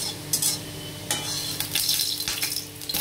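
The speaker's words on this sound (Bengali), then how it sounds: "5 ফোড়নটা একটু ভেজে নিতে হবে ভালো করে" Panch phoron spices fry in hot oil with damp crackle and sizzle, punctuated by several sharp scraping clinks of a spoon stirring against the pan, close and fairly loud, no talking.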